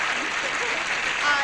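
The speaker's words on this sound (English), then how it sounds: "Let's have a nice round of applause for two lovely ladies." Studio audience applause on a game show anniversary special, a continuous even patter of many hands clapping at moderate loudness with slight swells, briefly overlapped by a faint voice.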